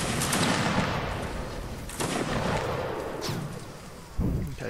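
Musket volleys ring out in a Mount and Blade: Napoleonic Wars line battle, with several sharp, overlapping gunfire bursts and rolling crackle, fairly loud and without speech.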